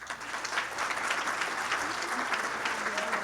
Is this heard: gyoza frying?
no